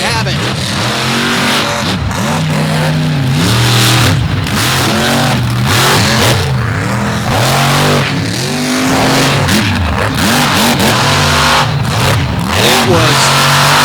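Mud racing drag cars with big engines launch off the line in sand at a Naples All Stars event, loud roaring revs rising and falling continuously close by, with an announcer talking over the engines.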